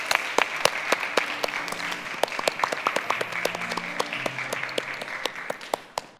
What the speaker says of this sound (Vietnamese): Một tràng vỗ tay để gửi lời chào đến gia đình số 4.